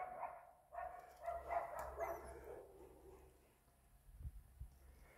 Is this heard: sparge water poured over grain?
no